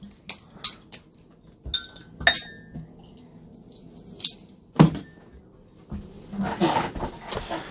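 Adnams Broadside beer bottle opened: a series of separate glassy clinks and metallic clicks, with a short sharp crack near the middle and a brief fizzy rush near the end, close and fairly quiet.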